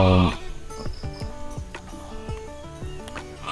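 Sheep bleat at a Thai sheep-raising farm, with several short wavering calls following one another at close range over a busy background.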